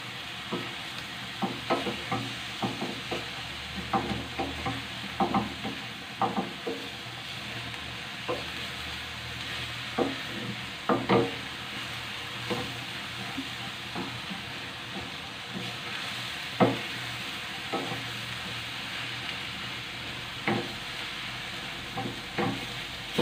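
Msemen filling sizzles steadily in a pan while a spoon stirs it, scraping with irregular clicks and taps against the pan over a constant frying hiss.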